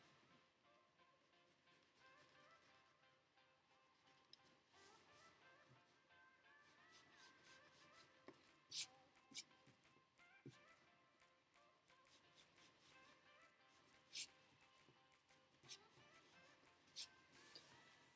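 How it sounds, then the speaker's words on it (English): A pencil eraser rubs across drawing paper to remove excess perspective lines. It makes faint, scattered scratchy strokes in short bursts and is quiet and close, with no talk. "What we need to do is erase the excess line that we don't need."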